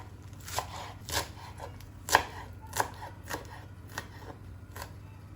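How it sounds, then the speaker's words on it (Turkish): A knife chops fresh purslane, stems and leaves together, on a cutting board in about nine crisp, evenly spaced strikes. A quiet hum sits underneath and no voices are heard. "Doğruyorum."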